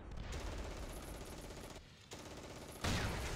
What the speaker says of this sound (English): that was a heavy machine gun team